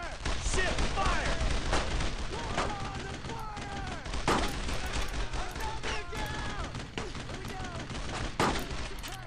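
Squad gunfire from the World War II game Brothers in Arms: Road to Hill 30 rattles in dense, rapid bursts of rifle and machine-gun shots, loud and continuous, with voices calling out over the battle.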